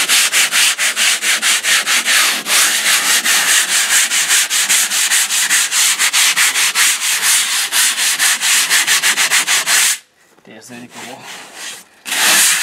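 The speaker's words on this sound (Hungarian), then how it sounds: "szépen megcsiszolod, addig csiszold, még el nem tűnik ez a kis domb." Rapid back-and-forth sanding scrapes against a hard plastered render surface in a loud, continuous rhythm, pausing briefly before resuming.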